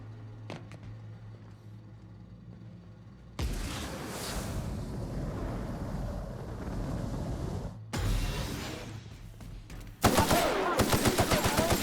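Rapid automatic gunfire from a sci-fi shooter game, The Outer Worlds, erupting after a quiet start and continuing in loud sustained bursts, ending with sharp repeated shots.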